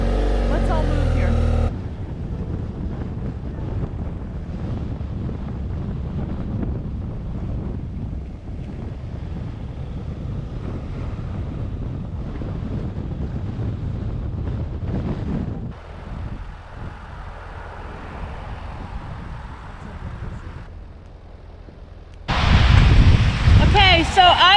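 Motorcycle riding south on Highway 101 through Oregon's coastal rainforest, with steady loud wind buffeting the microphone over a low engine drone throughout, a brief louder gust burst near the end.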